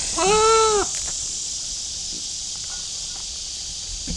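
A single goat bleats once, a clear, wavering cry lasting under a second, followed by quiet outdoor ambience with a steady insect-like hiss.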